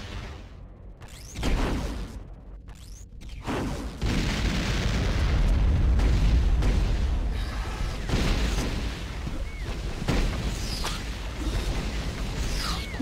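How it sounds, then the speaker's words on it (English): Firestorm cannon fired repeatedly in a video game city battle, heavy booming blasts with whooshing explosions rolling continuously over a loud, dense background. "Firestorm cannon."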